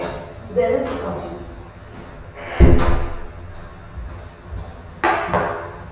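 A door is shut indoors, with a sharp thudding slam near the middle and a lighter knock near the end, close by amid room noise and faint movement.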